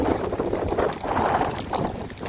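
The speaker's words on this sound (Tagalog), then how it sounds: "lumalakas na yung ulan talaga, at saka yung hangin talaga" Strong wind roars steadily against the microphone with a dense wash of heavy rain during Typhoon Carina, loud and continuous throughout with no voices.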